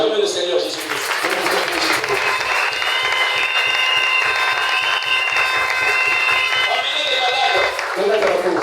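A church crowd acclaiming Jesus Christ with loud sustained applause and cheering at a healing gathering, voices shouting and singing over the clapping throughout.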